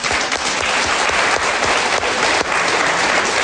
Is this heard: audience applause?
yes